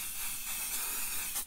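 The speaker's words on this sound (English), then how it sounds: "using my spray and shine to protect the top" A steady, close aerosol spray of shine sealant coating the top of a paper craft tag hisses continuously for over a second, then cuts off abruptly at the end.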